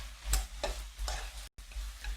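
Eggplant and meat stir-frying in a pan: several scraping stirs of a utensil over a soft sizzle, with one abrupt brief dropout.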